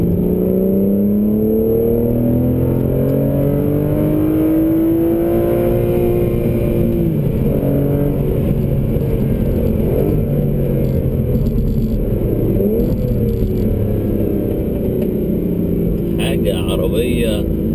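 An Aston Martin Vanquish S engine revs loudly on a test drive, a steady cabin roar whose pitch climbs smoothly as the car accelerates, then settles back, with a voice talking over it.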